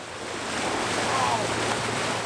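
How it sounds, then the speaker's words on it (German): Steady rushing and hissing of a bow wave pushed by a heavy 15-tonne sailing yacht moving under a 100 hp engine, continuous and close with some wind noise, no voices over it. "Der schiebt eine Bugwelle vor sich her, das ist krass."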